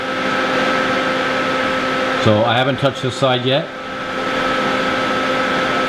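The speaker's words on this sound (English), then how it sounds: "I'm sure you can hear the TIG welder making a bunch of noise in the background" A TIG welder welding aluminum onto the stunt clutch lever of a 2017 Suzuki GSX-R1000R gives off a steady electrical buzz and hum throughout. Someone speaks briefly over it midway.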